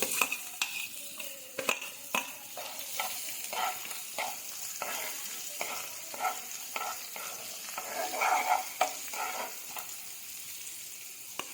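Sesame seeds and onion sizzle in a pan for masala idli fry, a constant frying hiss broken by repeated scraping stirs and the odd light tap of a spoon, with no talking.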